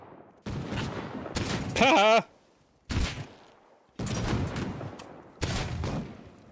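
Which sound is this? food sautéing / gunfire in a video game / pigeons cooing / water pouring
gunfire in a video game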